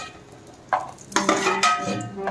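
Cashews are stirred in hot ghee in a pan for a temple-style prasadam, with a few scraping stirs and bursts of sizzling frying, close and fairly loud over a short stretch.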